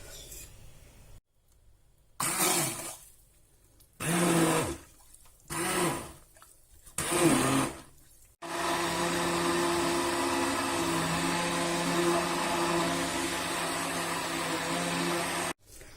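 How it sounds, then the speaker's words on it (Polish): A few short bursts of a motor revving on and off, then a steady loud whirring blender running continuously through vegetables, olive oil and apple cider vinegar for gazpacho before cutting off abruptly. "I to wszystko blenduję."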